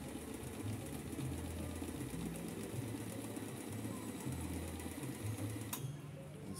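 A Kenmore 158 sewing machine stitches steadily and close by, its even mechanical hum and rapid needle rhythm running the whole time, with one brief knock near the end.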